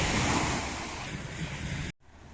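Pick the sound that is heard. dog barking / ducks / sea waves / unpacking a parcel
sea waves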